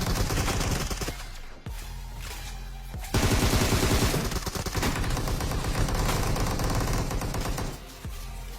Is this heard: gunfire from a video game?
yes